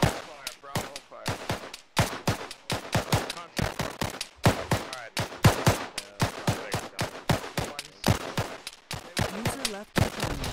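Rapid bursts of gunfire crack repeatedly in a military shooter game, loud and dense, with sustained volleys and short pauses across the whole stretch.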